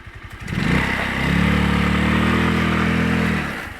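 A motorcycle engine revs and holds a steady, loud drone while the bike rides over a rough road, the pitch rising briefly before settling into a sustained roar that fades at the end.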